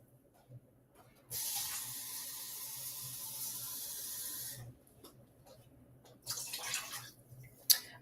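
Water from a tap gushes into a container for about three seconds, stops, then runs again in shorter spurts with a few drips and clinks; no talking.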